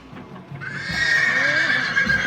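Horses neighing close by, one long rising whinny swelling over faint hoof clip-clop and outdoor noise.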